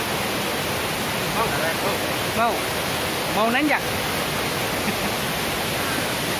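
Loud, steady roar of the Lembah Karaeng waterfall fills the scene, with a few brief voices speaking underneath the rushing water.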